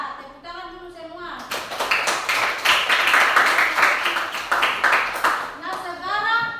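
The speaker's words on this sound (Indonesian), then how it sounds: "Ya, tepuk tangan dulu semua." Schoolchildren clap together in a classroom during a mathematics lesson, a dense burst of claps lasting several seconds after an opening stretch of voice, with children's voices mixed in.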